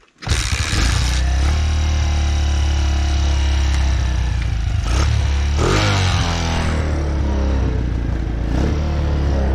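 A Honda ATC 185 three-wheeler fitted with a Chinese 150cc engine starts up and idles loud and close. The small single-cylinder engine chugs steadily, with a few brief rises in revs and some mechanical clatter.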